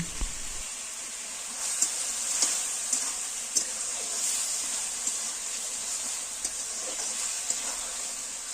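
A tomato and date chutney with sugar simmers in a frying pan under a soft, steady sizzle, while a spatula stirs it with faint, regularly spaced scrapes and taps against the pan.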